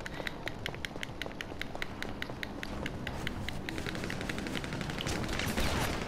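Rapid gunfire fills a crime family shooting video game, a long string of evenly spaced shots rattling over a steady background din and quickening slightly toward the end.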